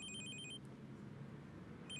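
A mobile phone rings during a police operational meeting, giving a faint electronic warble of paired high tones at the start that returns near the end, over a low room hum.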